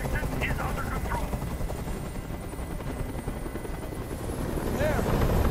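A helicopter hovers over the rooftop hostage standoff in Detroit: Become Human, its rotors beating in a continuous low throb that swells slightly toward the end, with voices talking over it.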